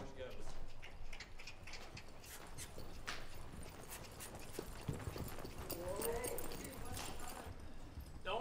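Horse hooves clip-clop at a ranch where young colts are being started, steady footfalls under outdoor noise with people talking nearby.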